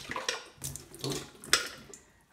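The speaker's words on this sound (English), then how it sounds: "then you would obviously pour this out over the sink" Leftover coffee and water from a portable coffee maker are poured out into a sink in a few uneven splashing glugs, close and fairly quiet, tapering off at the end.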